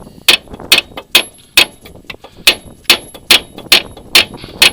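Heavy metallic clanks ring out one after another, about a dozen sharp sledgehammer strikes on a Suzuki SX4 control arm at a steady pace, close and loud.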